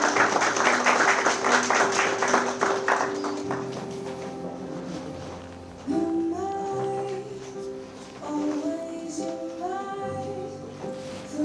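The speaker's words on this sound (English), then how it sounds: "Give her a round of applause, folks." Wedding guests at a ceremony in Dublin applaud after a poem reading, a brisk burst of clapping that fades over a few seconds as soft music carries on alone.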